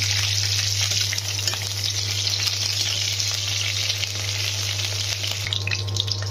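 Bay leaf and cumin crackle and sizzle in hot oil in a pan on an induction cooker, a loud, continuous frying hiss with a steady low electrical hum underneath.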